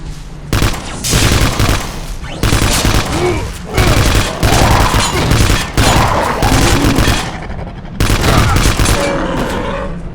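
Rapid laser-gun fire from hyena enemies in the Vivisector: Beast Within shooter, loud dense volleys of shots in several bursts with brief gaps, with game ambience underneath.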